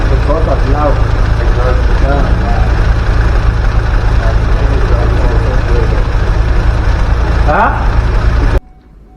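A VW Golf 7.5 TCR engine idles close up with a cylinder 2 misfire, giving a loud, steady low rumble that holds evenly before cutting off sharply near the end.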